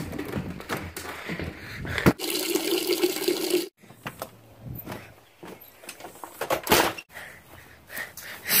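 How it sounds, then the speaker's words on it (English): Water spraying from a leaky garden hose nozzle onto flowers outdoors: broadband hissing spray that starts and stops in uneven bursts, with brief dropouts and a few knocks between them. "I will water your dang flowers!"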